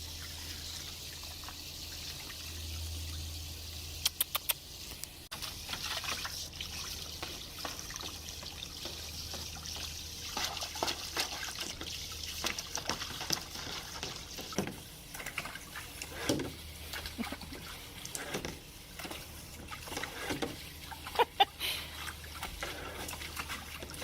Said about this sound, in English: your mom has to fill up your pool for you